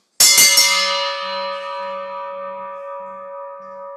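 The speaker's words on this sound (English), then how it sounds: "I'm going to ring this bell, and the beauty of the bell is the resonance" A resonant 150-year-old bell cast by Mears is struck once with a loud, sharp onset, then rings on at a steady pitch with a long, slowly fading hum.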